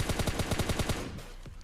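Automatic gunfire in the mobile game PUBG Lite fires a rapid burst of about nine evenly spaced shots, loud and close, then stops, leaving a faint tail.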